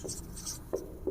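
Brief scratchy strokes of writing on paper or a board during a Class 10 maths lesson on linear equations, a few short close scribbles in quick succession with no talk over them.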